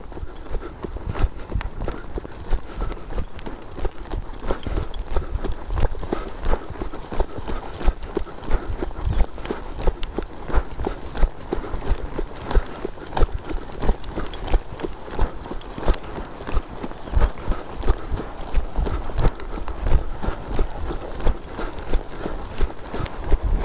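A colt's hooves clip-clop steadily around a riding pen in a continuous rhythmic gait, close and clear, with a second horse nearby; a faint voice surfaces now and then.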